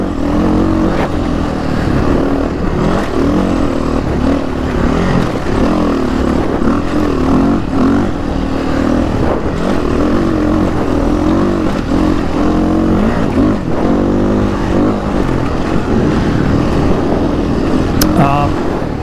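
Beta 480RR dirt bike ridden on hilly fire trails, engine droning loud and continuous with rising and falling revs as the rider powers along, wind noise mixed in.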